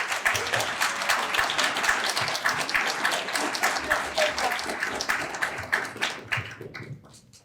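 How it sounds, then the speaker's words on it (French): A crowd at an evening campaign rally of a left-wing and ecologist alliance for municipal elections in France applauds warmly, dense clapping that holds steady and then thins out and fades near the end. "je vous demande d'applaudir Nathalie Vallée."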